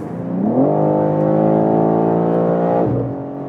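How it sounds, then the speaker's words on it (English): A BMW M3 Touring's 3-liter inline six pulls hard, rising to a loud sustained drone that holds steady, then drops away near the end as the revs fall. No one speaks. "That 3-liter inline 6-cylinder is a gem."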